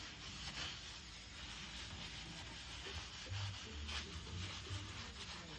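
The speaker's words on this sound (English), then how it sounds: "All you're doing is scratching the finish to give it a nice rippling effect like a stainless steel would." Fine 0000 steel wool rubbed over a furniture finish with soapy water makes a soft, continuous scratchy rubbing, close and faint, with no talk.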